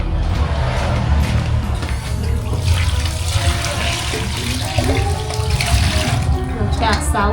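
Sticky rice being rinsed in clean water, with steady, close, continuous splashing and sloshing throughout and faint voices in the background.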